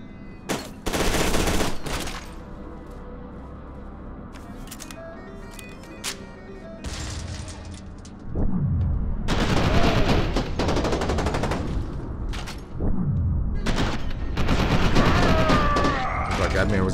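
Bursts of video game gunfire, rapid automatic fire mixed with heavier shots and booms, come in loud waves with brief lulls, while a player talks over parts of the action.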